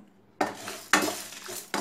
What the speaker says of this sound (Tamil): மீதி எல்லா பொருளையும் இதில் ஆட் பண்ணி வறுத்துக்கோங்க.